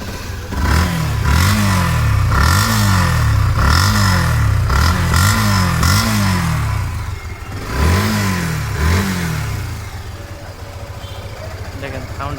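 A 2022 Yamaha FZ V3 motorcycle engine, close and loud, revved repeatedly in quick rising bursts over a steady idle, then settling back to a lower idle.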